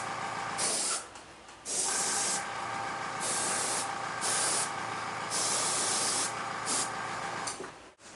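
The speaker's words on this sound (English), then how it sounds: "let's add some dulling spray" Aerosol dulling spray misted over a customised Batman figure, heard as a series of close, sharp hissing bursts of about a second each, separated by brief pauses, with a faint mechanical hum underneath.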